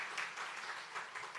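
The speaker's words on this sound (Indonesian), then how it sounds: "Kita boleh tepuk tangannya agak heboh buat Tuhan Yesus Kristus." A congregation claps loudly and steadily during a church worship service, a dense, even wash of applause with no pauses.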